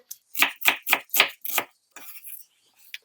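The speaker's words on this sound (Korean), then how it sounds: "양파 100g 채 썰어 볼게요" A knife julienning half an onion on a cutting board lands five crisp, evenly spaced chops close up, followed by softer scraping and a final tap.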